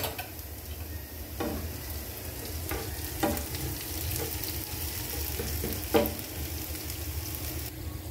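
Small onions and curry leaves fry in a pan with a soft, steady sizzle, broken by a few quiet stirring scrapes and taps spaced through the clip.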